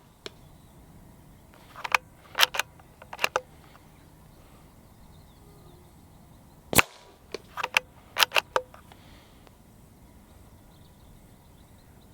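A CZ 457 stainless synthetic .22 LR rifle fires sharp, cracking shots outdoors at a range, in scattered clusters, with one standalone louder report midway and quiet pauses between.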